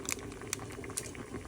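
Spicy Jin Ramen noodles boil in a pot on the stove, a steady low bubbling with soft popping bursts and occasional brighter crackles, close and fairly quiet throughout.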